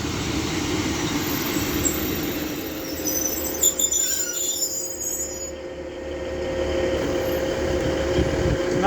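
Train 15121, a Northern service to Rochdale, departs Castleton station with a steady low rumble and faint high wheel squeal, a continuous engine drone that swells slightly toward the end.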